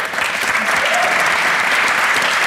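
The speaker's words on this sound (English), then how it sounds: "round of applause" Steady, dense applause from a conference audience at a live podcast taping at GopherCon UK, a Go programming event, with the many hands clapping loudly and evenly throughout.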